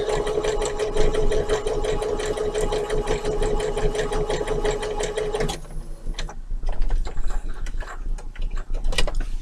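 A sewing machine runs steadily, stitching denim for a tote bag made from old jeans, its fast even rattle close and loud, then it stops and gives way to softer handling clatter.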